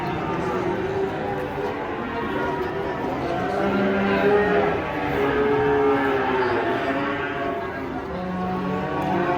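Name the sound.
cattle mooing while unloaded from a truck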